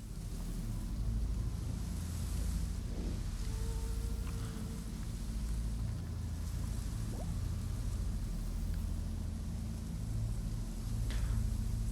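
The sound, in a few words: water behind a wall in the video game Wartales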